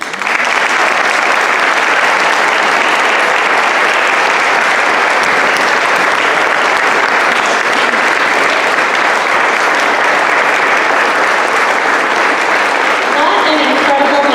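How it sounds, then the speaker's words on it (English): An audience at an outdoor Veterans Day ceremony gives a long, loud, steady round of applause, dense clapping that holds at full strength for the whole stretch with little else audible. "Let's give Matt Mobley a big round of applause."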